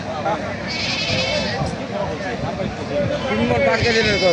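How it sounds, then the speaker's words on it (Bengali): Several goats at a crowded livestock market in Thakurgaon district give repeated quavering bleats, clearest near the start and end, over a steady hubbub of people talking. "প্রিয় দর্শক দেখেন কত সুন্দর সুন্দর ছাগল আপনাদের দেখাচ্ছি"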